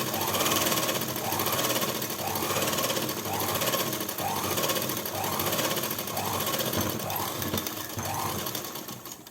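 A tailoring sewing machine runs steadily, stitching a second seam on a salwar pant, its fast needle chatter continuous and loud with a rhythmic pulsing surge about every second.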